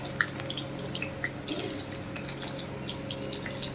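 Potatoes frying in hot oil in a kadai, a steady close sizzle with crackles and small pops, no talk.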